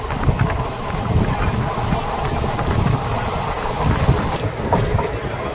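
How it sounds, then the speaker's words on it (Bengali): Aboard the Visakhapatnam–Bhubaneswar Intercity Express running at speed, a loud, steady rumble mixes with rushing wind and a recurring clickety-clack of wheels over rail joints, with no talking. "ট্রেন বেশ ভালোই চলছে, সেটা অন টাইম ছেড়েছে গাড়ি, বেশ ভালোই চলছে এখন।"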